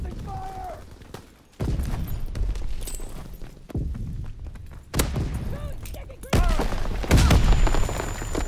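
Gunfire crackles in bursts through a WW2 video game firefight, with loud booming volleys and rattling shots mixed among a player's voice and game chatter.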